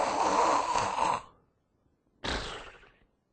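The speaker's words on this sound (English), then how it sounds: "what they might find is a patient who's sitting there snoring" A seated patient snores with two rough, breathy bursts separated by about a second of silence, close and moderately loud with no talking.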